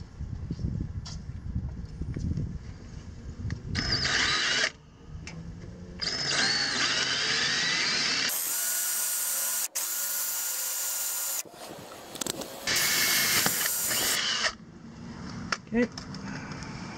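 A power drill whines in several bursts, stopping and restarting, while installing a cat security shield on a second-generation Toyota Prius, with gaps of softer handling noise in between.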